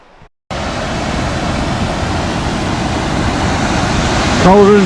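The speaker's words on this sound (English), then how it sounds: "Colden Snout waterfall." Cauldron Snout waterfall on the Pennine Way, a loud, steady roar of rushing water that fills the scene after a brief quiet start, with a short tonal whistle or call near the end.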